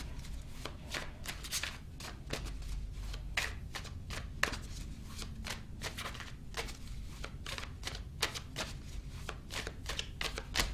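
Tarot cards are shuffled and drawn by hand, giving quiet, rapid papery riffles and flicks that repeat steadily with no speech.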